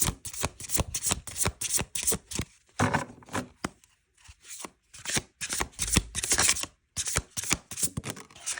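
Tarot card deck being shuffled by hand, a rapid series of crisp riffling and slapping bursts with brief pauses between them, close and clear with no talk.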